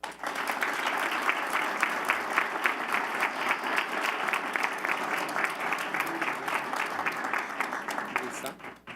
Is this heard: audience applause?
yes